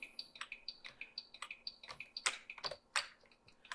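Keys tapped on a keyboard while playing a game on a vintage computer: quiet, rhythmic presses roughly every quarter second, with game beeps and a few sharper, louder clicks near the end.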